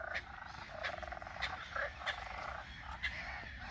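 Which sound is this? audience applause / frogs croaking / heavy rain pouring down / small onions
frogs croaking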